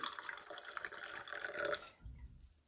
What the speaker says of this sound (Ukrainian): Тепер відливаю цю воду в посуд інший, наливаю знов свіжої тепленької водички